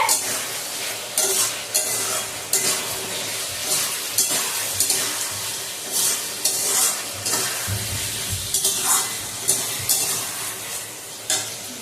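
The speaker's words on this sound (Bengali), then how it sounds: "এবার এটা আবার একটু নাড়িয়ে দেওয়া হবে।" Fish curry being stirred in a pan while it fries, the ladle scraping in repeated strokes over a steady sizzle, close and fairly loud throughout.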